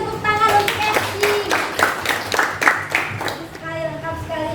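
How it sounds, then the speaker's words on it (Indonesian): A classroom of students claps for a classmate after a maths answer, scattered hand claps mixed with children's voices and chatter throughout, moderately loud and close. "Kita berikan tepuk tangan untuk Erci"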